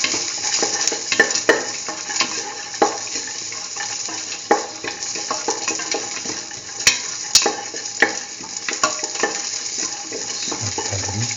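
Garlic pieces sizzle and fry in a pan while being stirred, with steady crackling and occasional sharp scrapes and clinks of the utensil against the pan, close and alone.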